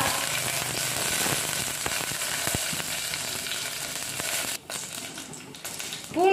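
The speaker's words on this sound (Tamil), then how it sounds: "கடுகு உளுந்து போட்டு செய்கிறேன்" Mustard seeds and urad dal sizzle and crackle loudly in hot oil for a Tamil cluster-bean poriyal, a dense continuous spitting close by, with a brief clatter near the end.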